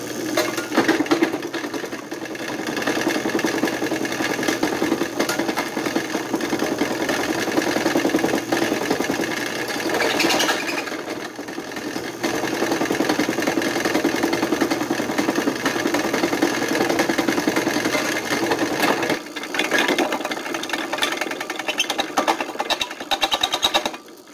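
An engine-driven crusher grinds quartz rock with a steady, loud mechanical rattle and hum that runs continuously, with brief dips where the load eases.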